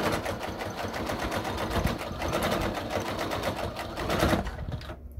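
Domestic sewing machine running steadily, back-stitching around the edge of a small fleece or flannel Christmas stocking-stuffer gift, a fast continuous mechanical whir that cuts off abruptly near the end.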